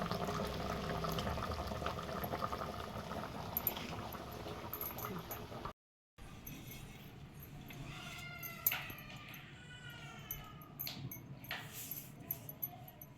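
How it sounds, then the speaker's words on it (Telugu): Fish curry simmering in a pot gives a constant low bubbling and hiss throughout, with a brief dropout midway and faint background noises over the steady boil. "అదిగోండి కూర అయితే ఉడుకుతుందండి"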